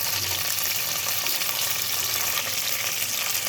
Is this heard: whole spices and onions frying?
yes